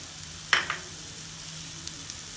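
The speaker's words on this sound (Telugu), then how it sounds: "ఇవన్నీ మాడకుండా లో ఫ్లేమ్లో వేయించుకొని చల్లారిన తర్వాత గ్రైండ్ చేసుకుందాము." Fenugreek seeds and other spices roast in a pan over a low flame with a soft, faint sizzle and a few light crackles and pops.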